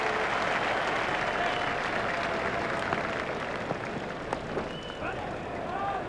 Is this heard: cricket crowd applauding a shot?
yes